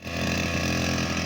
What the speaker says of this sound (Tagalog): balik nag-start na mag-grass cutter si ka-partner doon